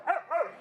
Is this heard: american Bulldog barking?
yes